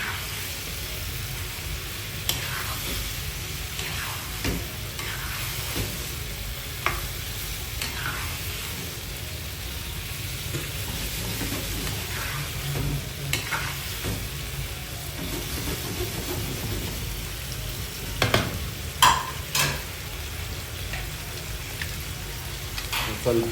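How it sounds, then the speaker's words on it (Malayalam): Fried chicken, cashews and raisins stirred together in a hot pan, a low continuous sizzle with intermittent scraping strokes and clatters, spread over a long stretch, no talk. "നേരത്തെ ഫ്രൈ ചെയ്ത് വെച്ച കാഷ്യൂ, കിസ്മിസും അതുപോലെ നമ്മൾ ഫ്രൈ ചെയ്ത് വെച്ച ചിക്കനും ആഡ് ചെയ്ത് കൊടുത്ത് എന്നിട്ട് നമ്മളിത് നന്നായിട്ടൊന്ന് യോജിപ്പിച്ചെടുക്കും."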